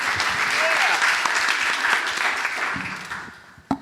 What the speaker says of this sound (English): Can we have a round of applause for our first questioner?